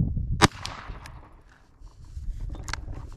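A Ruger SP101 revolver fires .38 Special 158-grain lead round-nose rounds at a range, one sharp crack early and a fainter second report near the end over a low background rumble.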